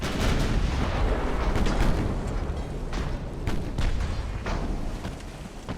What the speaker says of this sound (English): We just can't do enough damage with 11-inch guns